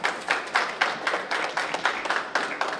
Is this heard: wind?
no